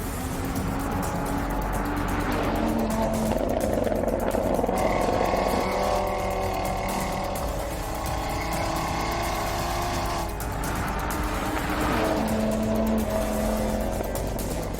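A tuned car runs fast around the Montlhéry race circuit, its engine a loud, steady roar that holds throughout with a few rising and falling swells and some tire noise, and no voices.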